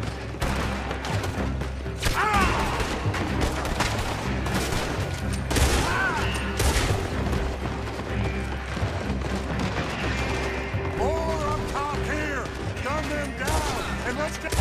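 Dense gunfire from a Red Dead Redemption 2 shootout: loud, continuous volleys of rifle and pistol shots with crashes, layered under shouting voices and game music for the whole stretch.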